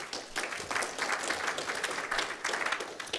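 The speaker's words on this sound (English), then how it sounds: "And I think another round of applause to Ian" A dense, steady round of applause from an audience for Ian at a camera club's live-streamed meeting, many hands clapping together at fairly constant loudness throughout with no voices on top.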